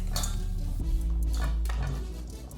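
Chicken pasta ingredients seasoned with chili flakes, pepper and salt are mixed in a bowl, with close, repeated clinks and scrapes of a utensil against the dish and no one talking.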